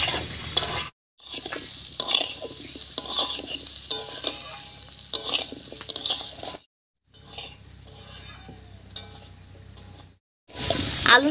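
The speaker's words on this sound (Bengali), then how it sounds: "আলুর সঙ্গে চালটাও বেশ ভাজা হয়ে গেছে" Rice grains and potato pieces crackle and fry in a pan while a spoon scrapes and turns them in short bursts separated by brief silent gaps, heard up close and without voices.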